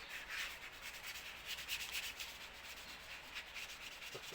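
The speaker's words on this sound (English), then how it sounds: "So what we'll do is we'll just give these a light sand." Rock saw parts being lightly sanded by hand to take off burrs, a steady soft abrasive rubbing that continues evenly throughout at close range with no voices.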